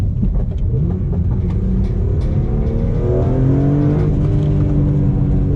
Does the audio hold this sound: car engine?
yes